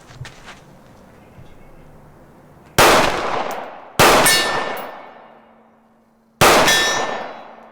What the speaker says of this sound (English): we have a 24-inch gong down at the 100